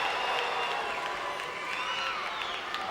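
A capacity crowd roars and cheers steadily throughout, loud and dense with whistles and shouting, at a WWF Championship wrestling match at the Birmingham NEC.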